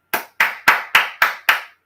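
Six sharp hand claps in a slow, even rhythm, each crisp and close with a short decay, isolated against silence.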